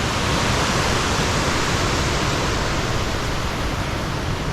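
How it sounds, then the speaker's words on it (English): Heavy torrent of water flowing down from the mountains beneath a canal aqueduct on the Monmouthshire and Brecon Canal, a steady loud broadband rush with no pauses, close and continuous throughout. "Lots and lots of water there."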